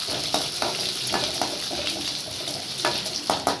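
Ginger frying in a pan for rava upma, a steady close sizzle broken by scattered crackles and pops, with no talking.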